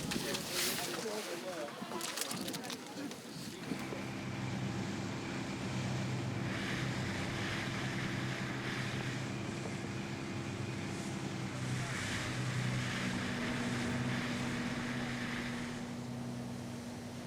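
Expedition ship sailing through the Lemaire Channel in Antarctica, with a steady low engine drone and a broad wash of wind and water running throughout, preceded by a brief burst of handling or wind buffeting at the start.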